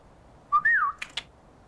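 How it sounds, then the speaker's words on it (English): A person whistles one clear rising-and-falling note, then makes two sharp clicking sounds with the mouth, close and alone against a quiet background. "What's this thing you do, the whistle with the clicking sound?"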